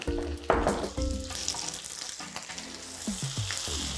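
Bacon fries in a pan of ordinary vegetable oil, crackling and sizzling up close with occasional clinks and stirring sounds of a utensil.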